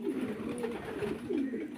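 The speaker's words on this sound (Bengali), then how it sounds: "এই ডেলি এই কবুতরটা আমার কোনো সময় হাতে আসতো না, এখন আসে মাশাল্লাহ।" A pet pigeon coos nearby in low, throaty bursts, with a couple of rolling coo phrases close to the listener and no one speaking.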